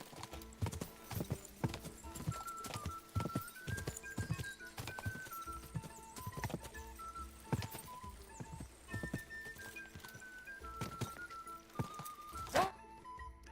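Horse hooves clip-clop steadily in Kingdom Come: Deliverance 2, a continuous rhythmic patter of hoofbeats under game sound, fairly quiet, with a short sharp sound near the end.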